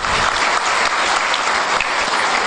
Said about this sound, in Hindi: जोरदार ताली से अभिनंदन।